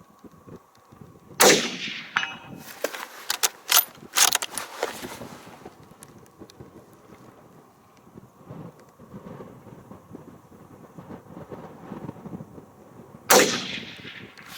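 A Mosin rifle fires outdoors in wind: a loud sharp crack near the start with rolling echo and handling noise after, then a second shot about twelve seconds later.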